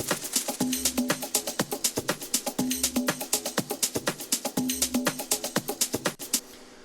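Organic house drum loops layered together: a steady driving pattern of punchy hits and crisp hats with a recurring low thump, loud and rhythmic with reverb space between hits, fading out at the end.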